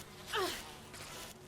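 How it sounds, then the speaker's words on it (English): Bees swarm and buzz in the video game Resident Evil HD Remaster, a sharp rising whine that swells near and loud for a moment, then settles into a fainter hum. "Get off me, bees."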